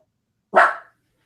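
A single sharp dog bark rings out close and fairly loud, a short lone burst with silence on either side.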